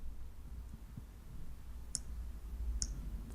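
Two faint, sharp computer mouse clicks about a second apart over a quiet low room hum.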